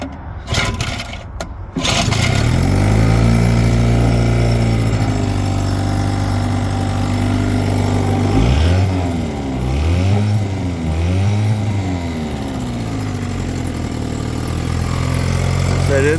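A 1960 Johnson 5.5 hp outboard motor is pull-started after a few quick tugs. It catches and settles into a steady, loud idle close by, with the pitch rising and falling briefly before steadying.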